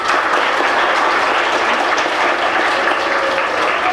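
Dawn High School students cheer and clap together in a school hall, a steady, dense wash of applause and voices that holds at full strength throughout without a break.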